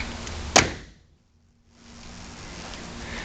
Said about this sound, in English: Close the door on it.